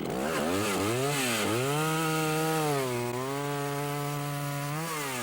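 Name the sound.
chainsaw running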